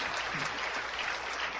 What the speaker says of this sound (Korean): 박수 한번 쳐, 박수 쳐